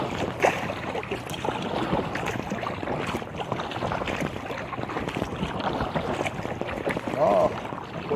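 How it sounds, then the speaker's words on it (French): A motorboat engine runs loudly and steadily on Lake Saint-Joseph under rushing wind and splashing water, close to the microphone, with a brief faint voice near the end. "ça carbure ce moteur-là"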